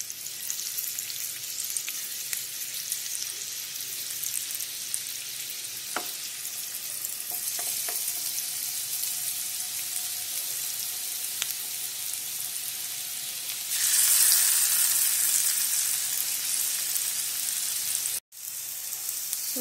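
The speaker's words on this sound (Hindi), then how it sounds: "सुरन को शैलो फ्राई करेंगे।" Pieces of suran (elephant foot yam) shallow frying in hot oil, giving a steady close hiss and crackle with a few small pops and a brief louder burst of sizzling near the end.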